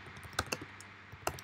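Quiet typing on a computer keyboard, with a few sparse, close keystroke clicks that come in two short bursts over a low background hum.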